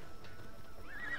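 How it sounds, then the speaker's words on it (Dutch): Horse neighing in the video game Assassin's Creed Odyssey, a single clear whinny rising at the end over a steady background of game ambience. "Dan gaan we even met de paard"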